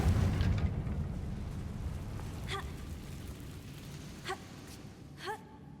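A Confringo fire spell in Hogwarts Legacy blasts with a low rumbling burst at the start that slowly decays, followed by a few faint magical chimes and shimmering accents.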